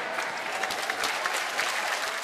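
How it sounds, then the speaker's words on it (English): A TV talent show studio audience breaks into steady applause, many hands clapping continuously at moderate volume with no talk over it. "now they seem to be clapping"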